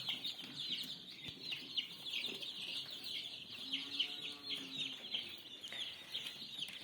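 Many young chicks from an incubator cheep continuously in a dense, high-pitched chorus close by, with occasional louder peeps and soft rustling and no voices.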